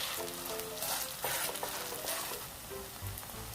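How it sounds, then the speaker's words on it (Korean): Zucchini and dried shrimp batter fries in an oiled pan with a bright, busy crackle and sizzle, close and fairly loud, with occasional clinks and scraping of a utensil. "팬에 기름을 두르고 반죽을 올려 넓게 붙여냅니다."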